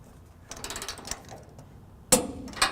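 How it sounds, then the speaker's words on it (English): Torque wrench ratcheting while tightening trailer hitch bolts on a 1994 Chevrolet truck, a close burst of rapid mechanical clicks followed by a sharper metallic clack and a second short ratchet. "now that we got all our hardware up, we're gonna go ahead and torque it down"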